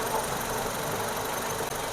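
Hot car engine with an automatic transmission idling in neutral or park, a steady close rumble with an even hum and no pauses, voices faint beneath.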